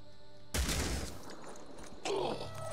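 Gunfire in the Phoenix Point video game against a Behemoth: a sudden loud volley of shots bursts out, rumbles on, then a second blast follows over a steady background hum.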